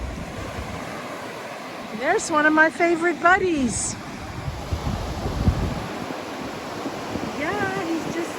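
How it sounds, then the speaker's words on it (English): Surf washes steadily onto a beach at Anastasia State Park, Florida, with wind buffeting the microphone throughout, while a person talks briefly over the rolling waves. "waves and the crashing"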